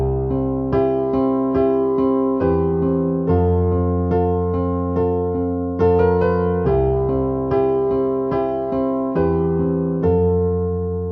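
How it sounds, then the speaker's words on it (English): Piano playing the intro accompaniment of a song in C, a steady rhythmic pulse of repeated right-hand chords over a low bass line, clear and close, solo with no voices. "The piano accompaniment of the intro and verses both start off the same and they sound like"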